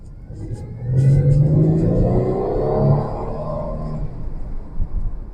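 A cheap, worn Ford Mustang with a failing transmission drives off through a neighborhood, its engine rumbling and revving up loudly with rising harmonic tones, then settling into a steady cruising drone.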